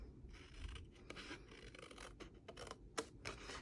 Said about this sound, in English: Now I'm going to cut the whole cup out